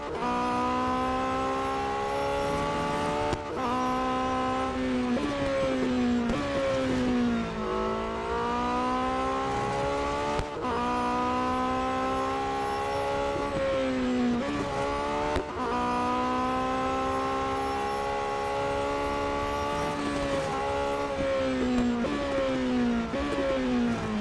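A Porsche race car in the Real Racing 3 game drives continuously, its engine note rising and falling through gear shifts and revs, with occasional tire squeal, loud and steady throughout.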